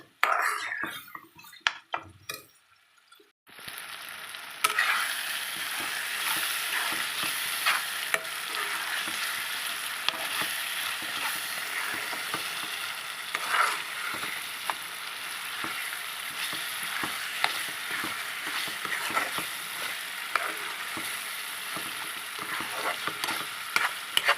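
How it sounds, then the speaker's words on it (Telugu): Tomato pickle cooks in plenty of hot oil, giving a steady close sizzle and frying hiss with scraping stir strokes, after a few seconds of quieter clatter at the start; no one speaks. "బాగా నూనెలో వాడాలండి పచ్చడి"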